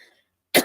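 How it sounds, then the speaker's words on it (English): A single short, sharp cough from a person with a scratchy throat, close and fairly loud, following a brief moment of quiet. "inducing a cough, and it's so random because it's not like constant"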